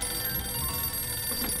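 A telephone rings in the point-and-click adventure game Sam & Max Save the World, a steady bell tone sustained throughout at moderate loudness with no talk over it.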